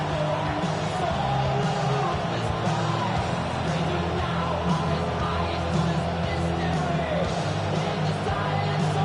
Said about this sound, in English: Not quite the same roar out of the crowd, Kate, that you're going to get with a touch